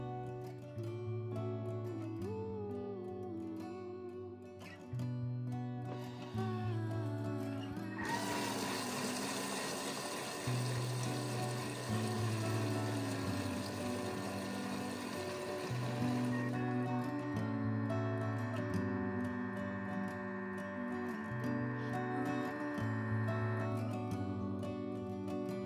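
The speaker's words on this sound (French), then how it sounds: "Il ne nous reste plus qu'à fermer notre robot et à le mettre en marche quelques secondes pour mélanger tout ça" A food processor runs for several seconds mixing cream for caramel sesame ice cream, a bright whirring motor drone that starts abruptly and then stops, with quieter background sounds before and after it.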